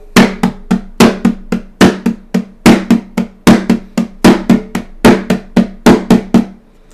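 Sharp percussive hits in steady 3/4 time, each bar opening on a louder stressed first beat followed by two softer beats, repeating evenly up close with no talking.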